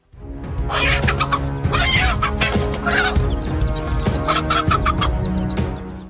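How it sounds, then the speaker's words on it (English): A mother hen clucks loudly and steadily with her chicks, a continuous run of close, busy clucks and squawks filling the whole stretch, with some rooster-like calls mixed in. "The mother hen had been gathering with its chicks"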